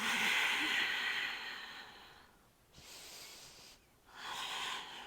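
Deep breathing during a yoga flow: a long, hissing exhale, a pause, a breathy inhale, then another airy exhale, close and soft with no talking.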